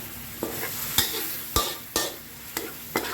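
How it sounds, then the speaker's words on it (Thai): Chili paste is stir-fried in a pan for a coconut curry, with repeated scraping strokes of the utensil over a soft, steady sizzle, about once every half second. "จะผัดพริกอ่ะ"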